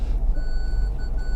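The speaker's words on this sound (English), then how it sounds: "That's just the parking sensors going off" Parking sensors on a 2015 Honda CR-V 1.6 i-DTEC EX automatic 4WD beep in a steady run of short electronic tones over low engine and road rumble.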